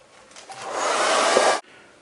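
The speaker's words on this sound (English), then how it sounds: "I'll use maybe first the hairdryer to hopefully get it hot and" A hair dryer, used to heat a figure during a repaint, switches on and blows with a steady, loud whoosh for about a second, then cuts off abruptly into quiet.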